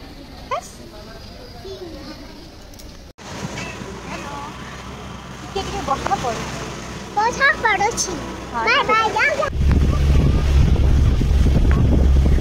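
Strong wind gusting outdoors during heavy rain, a loud steady rush that swells and becomes broad and roaring near the end, with people talking over it throughout.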